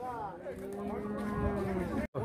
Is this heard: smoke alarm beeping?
no